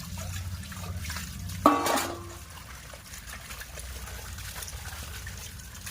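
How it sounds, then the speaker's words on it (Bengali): Food is washed in water: a steady, soft trickle and splash from a tap runs under the room, with one brief louder knock partway through and no talking. "ভালো করে বেছে নিয়েছি এবার একটু ধুয়ে নিই"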